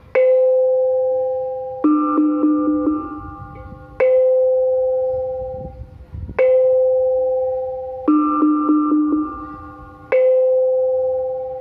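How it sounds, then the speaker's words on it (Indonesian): A kempyang, a small Javanese gamelan gong tuned to slendro, is struck about six times at an unhurried pace. Each bright metallic ring alternates between two pitches and decays slowly, and nothing else is heard. "Ini kempiang untuk laras slendro."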